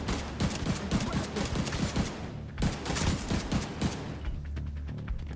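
Assault rifle fire in The Division 2 crackles in rapid bursts, with a short lull midway before the shooting resumes. Dense, loud shots overlap one another in a busy firefight.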